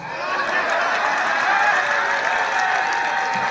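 A crowd at an outdoor political rally in Lungalunga on the Kenyan coast claps and cheers, a dense unbroken wash of applause that holds loud and steady from start to finish.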